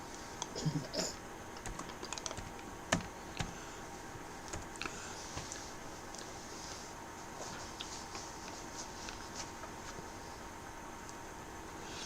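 Keys clatter on a computer keyboard in scattered bursts and single taps against a steady background hiss, with a sharper click or two standing out.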